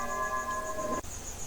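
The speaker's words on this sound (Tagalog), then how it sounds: "Pinatugtog ng ermitanyo ang kampana na nasa pintuan." A single bell at a hermit's door rings out with a sustained metallic tone that hangs and fades over about a second before cutting off abruptly, faint hiss underneath.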